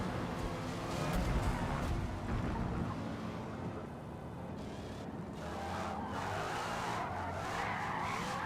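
Cars drifting during a Forza Motorsport meetup give sustained tire squeal over continuous engine roar, a loud, steady, dense wash of screeching rubber that never lets up.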